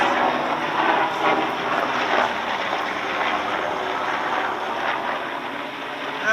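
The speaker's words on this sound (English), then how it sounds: "That looks like some executive helicopter, to tell you the truth." An executive helicopter flying overhead in a residential area, a broad steady rotor and engine roar at moderate distance, continuous and even with no talk.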